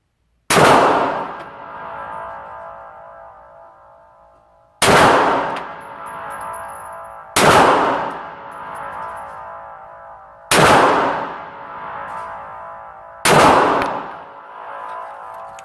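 Five sharp handgun shots fired as a group at 15 yards, loud and spaced a few seconds apart with uneven gaps, each crack followed by a ringing decay.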